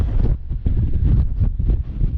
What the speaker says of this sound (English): It's a little bit windy, I'm sorry.